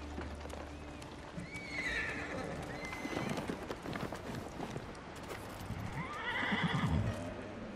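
A horse in the video game Ghost of Tsushima neighs twice, loud and close, while its hooves clip-clop steadily underneath throughout.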